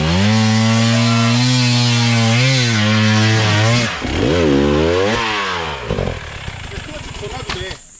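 A Husqvarna FE250 enduro motorcycle engine hums steadily nearby on an off-road trail, its pitch climbing and dipping with throttle changes, then breaking into rough, uneven running and idle toward the end.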